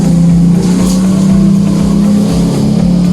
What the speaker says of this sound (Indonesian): Sebentar, ada motor lewat.